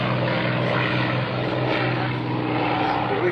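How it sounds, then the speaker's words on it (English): A P-51 Mustang propeller fighter, the Crazy Horse, flies at a 2004 naval air station airshow, its piston engine a loud steady droning roar with a low throbbing hum throughout. "The crazy horse is actually a P-51 Mustang, which was the last designation given to the Mustang series."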